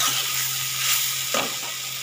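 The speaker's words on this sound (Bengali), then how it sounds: "নেড়ে চেড়ে কি সুন্দর ফুলটাকে ভাজা ভাজা মতন করে নিলাম" Flowers stirred and fried in a pan give a steady broadband sizzle with a couple of brief scraping stirs, close and moderate in level, no voices.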